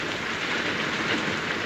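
Steady heavy rain in the 1932 film Rain, a dense, even hiss that fills the scene without pause and with no voices over it.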